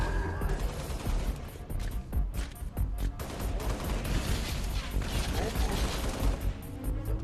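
The fuel rod gun fires in the video game Halo: Reach, giving a dense stretch of blasts and crashing impacts. It plays at moderate loudness, and a voice seems to murmur underneath.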